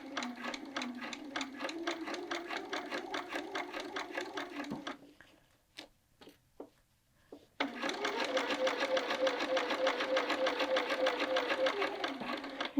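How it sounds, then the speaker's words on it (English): Sewing machine set to a long 4.5 basting stitch runs across a welt pocket seam in a steady rapid chatter, pauses for a few seconds with faint clicks and handling, then resumes the same close, even whir. "am going to machine baste this so you can have an idea of what that looks like"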